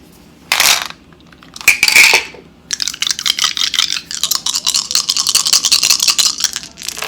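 Dice rattle and clatter across a surface during a tarot pick-a-card reading, with a couple of sharp shakes followed by a longer stretch of fast, dense tumbling clicks, close and fairly loud with no talk over it.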